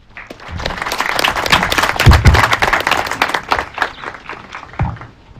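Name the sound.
audience clapping to welcome keynote speaker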